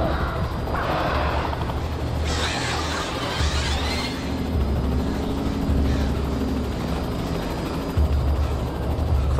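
A helicopter's rotor chop and whine fill the scene continuously, with bursts of crow cawing and noise layered over the steady drone, in the video game Alan Wake.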